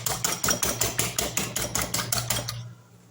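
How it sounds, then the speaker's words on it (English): Eggs are whisked in a bowl. A fast, even run of clinking taps plays over a low steady hum, then stops abruptly near the end. "So I will whisk"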